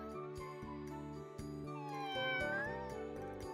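A person imitates a cat, giving a drawn-out, wavering meow that rises and falls, sung loudly over steady background music.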